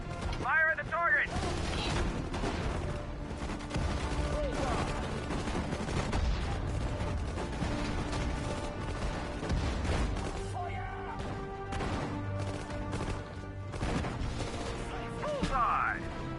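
Battle gunfire in the strategy game Sudden Strike 4: scattered shots, bursts and mechanical clatter, moderately quiet and mixed with spoken unit voice lines and other game sounds throughout.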